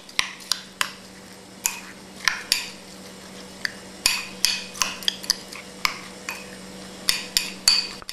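A spoon strikes and scrapes around a bowl as black beans and All-Bran cereal are stirred together, giving a string of sharp irregular clinks and knocks, close and fairly loud, with no one talking.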